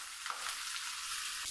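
Chopped onion sizzles steadily in a hot pan, a dense continuous frying hiss with faint stirring clicks, close and alone for a brief moment.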